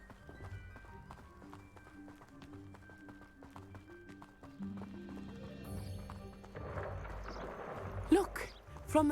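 Hippogriffs from the Forbidden Forest in a Harry Potter video game come through as a rhythmic clip-clop of running hooves with tapping steps, building louder toward the end, where sharper cries and thumps break in.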